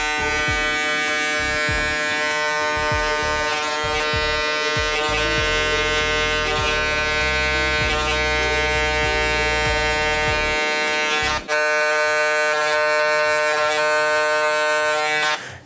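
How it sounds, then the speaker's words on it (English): Steady, loud electric buzz of a hair clipper during a mid-high skin fade haircut, running continuously with a brief dip near the end. "I apologize if this clipper is too loud"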